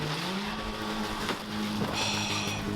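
An old Subaru station wagon drives at a UK car jump event, its engine droning steadily with a rising pitch and faint tyre noise in a loud outdoor setting, no talk.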